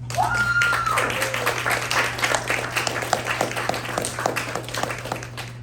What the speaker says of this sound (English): Oh, Blaine, clap it up for Blaine.